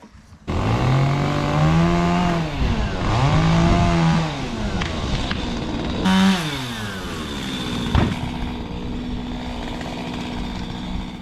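A chainsaw revs and bogs repeatedly while cutting a pile of self-seeded tree timber in a farmhouse garden, loud and close, its engine pitch rising and falling as it bites.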